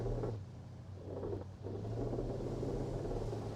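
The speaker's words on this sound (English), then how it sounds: "Truck passing left." A truck rumbles steadily with a low engine drone, swelling slightly as it passes on the left; road noise throughout, no voices.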